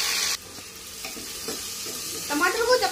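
Chopped tomatoes go into a pan of lightly browned fried onions for a dal khichdi: a loud hiss cuts off abruptly, then softer sizzling with a few stirring scrapes builds back up to a crackling fry.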